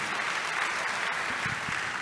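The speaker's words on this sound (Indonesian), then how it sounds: "Boleh berikan tepuk tangan yang paling meriah buat Tuhan" A church congregation at a youth revival service claps in a steady, dense wash of applause, close and continuous throughout with no voices.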